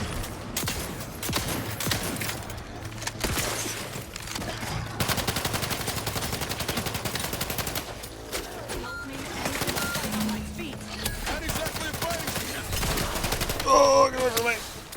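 Shotgun fire in The Outer Worlds, a string of sharp blasts amid dense combat noise and other gunfire, loud and near, with voices and game sounds mixed in.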